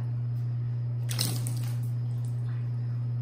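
Water thrown onto a rain-repellent-coated windshield of a Can-Am Ryker motorcycle, a sudden close splash followed by brief trickling and dripping over a steady low hum.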